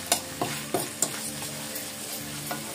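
Squid sautéing in a pan, with a few sharp spatula knocks and stirring scrapes over a soft, steady sizzle, close and moderately quiet.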